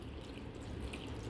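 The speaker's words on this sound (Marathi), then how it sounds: "मग वरून थोडेसे परत आपण पाणी ऍड करायचे आहे" Water trickles steadily into a pressure cooker already holding peas and peanuts for palak gargat, a soft, continuous pour close by with no voices.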